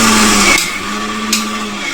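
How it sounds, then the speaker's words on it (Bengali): A mixer grinder blending peanuts and honey into homemade peanut butter gives a loud, dense motor whir for about half a second. It then drops to a quieter steady hum with a faint tonal whine. "এবার মিক্সচারটা একবার চালিয়ে নেব এই হানিটা দেওয়ার পরে।"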